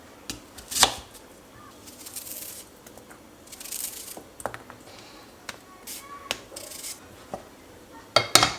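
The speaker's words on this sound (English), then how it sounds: "For the potatoes, I'm going to cut it into half first." A knife cuts potatoes in half on a board in a home kitchen, giving a few sharp, scattered chops and scrapes separated by quiet pauses, with a cluster of crisp strikes at the end.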